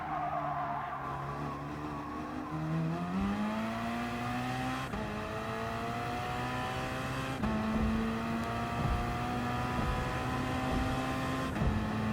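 Several race cars howl around a Gran Turismo Gr.3 circuit at Tokyo Expressway South Inner Loop, engines rising and falling through gear changes with a dense pack of cars close behind, loud and continuous with no talk.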